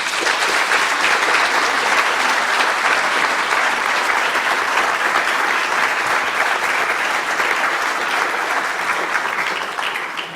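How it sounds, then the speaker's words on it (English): A ceremony audience gives sustained applause to welcome Bermudian actor Earl Cameron, dense and even clapping that stays loud for about ten seconds before starting to taper at the end. "You're used to hearing this sort of applause and much more."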